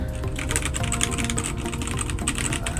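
Rapid typing on a Drevo Gramr 75% RGB mechanical keyboard, dense overlapping keystrokes clattering close and steady with no pauses, no talk.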